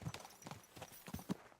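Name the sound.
horse hooves clip-clopping in the video game Kingdom Come: Deliverance 2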